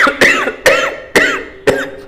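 Four sharp coughs in a row, evenly spaced and close to the mic, each a harsh burst with no talking in between.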